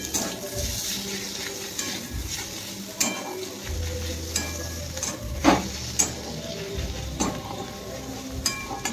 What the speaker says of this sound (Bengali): আর এবারে আমি একটু টমেটো কুচি দিয়ে দিচ্ছি